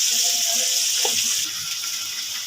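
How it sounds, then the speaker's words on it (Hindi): Water poured by the glassful into a cooking pot for chicken sajji pulao rice makes a steady, close splashing stream that eases off slightly near the end, with no talking. "अब मैं इसमें तकरीबन 3 गिलास इसमें मैं पानी डालूँगी"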